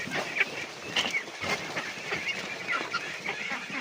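A flock of farm ducks quacks and honks while eating banana and rice bran, with scattered nasal calls overlapping in quick bursts at close to moderate distance.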